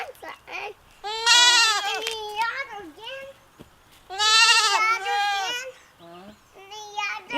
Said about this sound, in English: The next thing we did on our off-grid homestead was bring home goats.